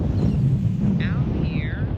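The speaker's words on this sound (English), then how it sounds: "the wind is standing up down here. It's very windy" Strong wind buffets the microphone by the water where people are fishing, a loud continuous low roar with gusting rumble, close and unbroken for the whole moment.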